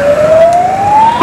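Ambulance siren during a Nepal Army fire-rescue demonstration, a steady tone rising slowly in pitch across the whole short stretch, loud and near with engine rumble beneath.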